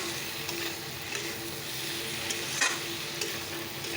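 A fish and small-potato curry with spices cooks in a pan, giving a steady, moderate sizzle and bubbling with a few soft stirring scrapes and one sharper clink near the middle. There is no talk.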